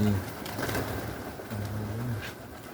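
Pigeons coo nearby in low, throaty, repeated calls, with soft rustling and a few faint voices in the background.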